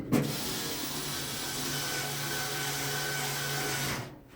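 A small handheld power tool whirs steadily for about four seconds, driving screws into a dryer lint trap. Nearby and fairly quiet, it starts and stops abruptly with no talk over it.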